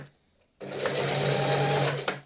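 A sewing machine runs in one steady, fairly loud burst while stitching a children's coat, starting after a brief quiet lead-in and stopping with a small clunk near the end.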